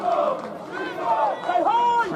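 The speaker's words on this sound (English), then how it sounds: "crowd chanting his name." Football supporters at a St Neots versus Sutton Coldfield match chanting player Simeon Coburn's name, a rising and falling chorus of many voices heard steadily over a short stretch.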